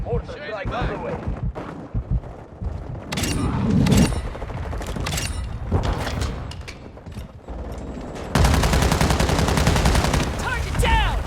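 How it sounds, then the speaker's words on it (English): Mortar strike in Modern Warfare 2, a rapid series of loud booms and bursts of gunfire in clusters, ending in a dense sustained barrage, with voices calling out over the combat. "Mortar strike on the way."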